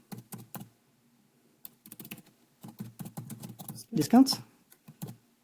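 Light keyboard typing comes in quick clusters of keystrokes as a chat message is written on a computer, close and crisp, with a person speaking over the later taps.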